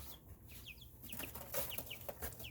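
Backyard chickens, golden sex links and Orpingtons, making soft, repeated clucks and short chirpy calls at close range, fairly quiet with a low background hum and no talking.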